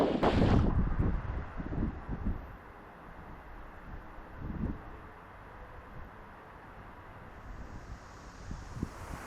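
Wind blows cold air up from below at St Pieter and the ENCI quarry in Maastricht, a soft steady rush with stronger buffeting at the start and a mild gust midway.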